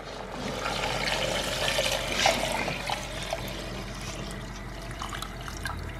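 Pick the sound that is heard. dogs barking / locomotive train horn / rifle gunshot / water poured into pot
water poured into pot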